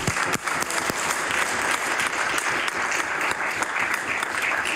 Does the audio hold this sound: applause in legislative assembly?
yes